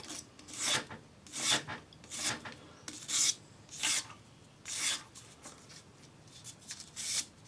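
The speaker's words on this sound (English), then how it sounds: "Use your sanding stick, 400 grade paper, and follow the curve." Rhythmic rasping strokes of a sanding stick with 400-grade paper on a metal ring, about a dozen back-and-forth passes at a steady pace, close and clear with no talking.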